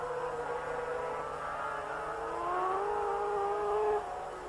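A 500cc racing motorcycle at the 1984 South African Grand Prix at Kyalami sweeps through the S-bends. Its engine gives a steady, mid-distance whine whose pitch climbs through the bend.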